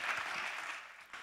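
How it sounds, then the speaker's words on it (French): Audience applause for a startup presenter at a pitch event, a dense wash of clapping that is fairly faint and fades slightly toward the end of the short burst. "Un tonnerre d'applaudissements pour Kian"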